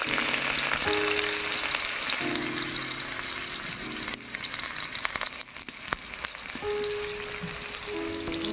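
Chopped onion fries in hot mustard oil in a kadai, a steady, close crackling sizzle that stays loud and continuous, with a few faint clinks of utensils and no speech.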